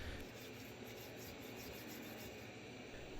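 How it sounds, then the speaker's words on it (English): A cotton swab rubs and scrubs built-up debris inside the extractor port of a Rock Island pistol slide, making a faint, continuous, raspy scratching sound close to the mic. "you could hear the sound of the accumulation along the walls, the abrasiveness against the cotton swab"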